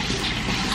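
Tap water runs steadily while hands are washed in a home kitchen during dinner cooking, a close, even broadband rush with no voices.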